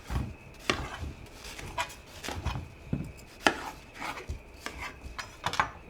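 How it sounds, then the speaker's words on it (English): Knife chopping through a small watermelon on a cutting board, a series of close, irregular thuds and crunchy slices spaced roughly half a second apart, with no talking. "first thing we're gonna do is cut our watermelon"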